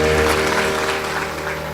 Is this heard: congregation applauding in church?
yes